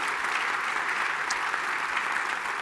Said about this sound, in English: So a round of applause for the fantastic questions and participation we had from the students, the captains, and engineers.